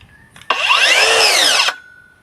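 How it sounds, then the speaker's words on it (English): A WORXSaw PowerShare dual-battery circular saw spins up and cuts through wood in one loud, steady burst of just over a second, then winds down to a thin whine, close and alone. "It is a PowerShare dual battery saw, so when you want to go for it,"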